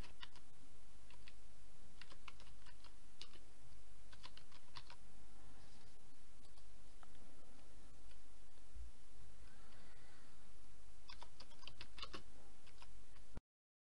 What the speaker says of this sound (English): Alright, let's type in a post.